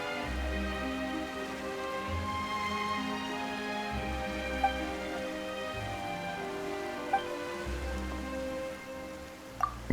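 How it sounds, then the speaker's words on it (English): Steady rain patters in the Genshin Impact game world, a continuous soft wash under a low droning musical score, with a few faint isolated drips or clicks along the way and no speech. "Why is it raining all of a sudden?"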